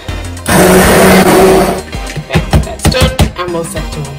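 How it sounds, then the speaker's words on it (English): Stick blender whirring loudly as it purées tomatoes into a red sauce for a thin-crust pizza, a steady roar for about a second and a half followed by choppy bursts as the blade is moved. "I'm going to use a stick blender to blend this into a tomato"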